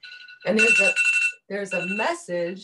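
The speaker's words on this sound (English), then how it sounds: "that's my alarm that's supposed to remind me to stop working" A phone alarm rings with a steady electronic tone that keeps sounding while a person talks over it, the ring clearly audible beneath the speech.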